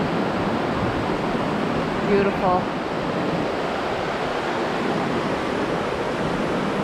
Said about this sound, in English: walking along the little river